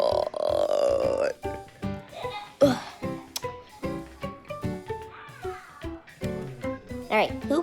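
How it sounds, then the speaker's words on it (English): A child burps loudly several times in a row, with short, throaty bursts and a few longer voiced eructations, up close and with brief gaps between them. "I want you to burp."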